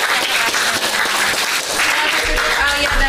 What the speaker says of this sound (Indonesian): Tetap kasih tepuk tangan dong.